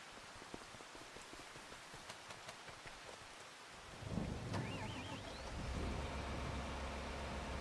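Rain patters steadily in a farming video game, a soft hiss that gives way to a louder, denser wash with low rumbling partway through.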